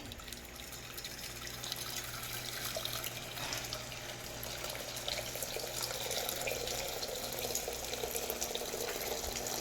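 Tap water runs steadily into a cooking pot in a home kitchen, a continuous close splashing hiss that stays even throughout with no talk.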